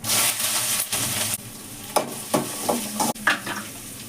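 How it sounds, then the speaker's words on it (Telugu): Chopped beans and green chillies fry in a little oil in a pan, giving a steady sizzle broken by several short scraping stirs near the end, close and fairly quiet with no talking. "అండిలో కొంచెం ఆయిల్ వేసుకున్నానండి, కొద్దిగానే, అవి ఫ్రై అవ్వడానికి"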